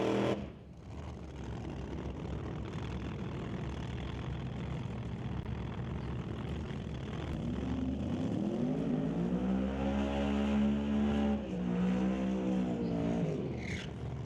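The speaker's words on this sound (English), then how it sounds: "Eric Horvath with that high winding burnout in the twin turbocharged Pontiac Firebird" A twin-turbocharged Pontiac Firebird drag car does a high-revving burnout at a drag strip, with a sustained roar that climbs into a rising, wavering engine whine and holds loud to the end.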